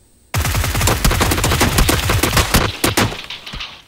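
G36 rifle fire in PUBG on the Vikendi map comes as a loud, close, sustained automatic burst of rapid shots with a few trailing cracks, and no talking.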